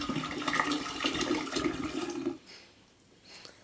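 Mouthwash poured from its bottle into a jug in a bathroom, a steady loud gush of liquid that stops abruptly, followed by faint quiet room sound.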